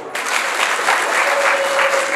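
Secondary school students at a Form Four graduation ceremony applaud their head teacher, a loud, dense burst of clapping that starts abruptly and holds steady.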